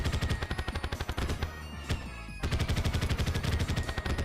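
Rapid repeated shooting in a Dragon Ball mod for Terraria, a fast rhythmic stream of blasts with a brief pause near the middle before firing resumes, loud and alone.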